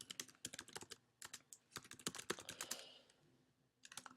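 Quiet, rapid keystrokes on a computer keyboard while entering text in Geometry Sketchpad, arriving in irregular bursts with a short pause before a few final taps.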